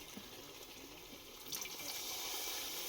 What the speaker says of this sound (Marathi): पाणी टाक हलकंसं